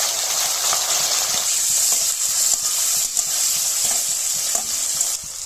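Tomatoes and carrots sizzling in hot oil with dried red chilli and cumin, a steady loud frying hiss with occasional stirring scrapes throughout.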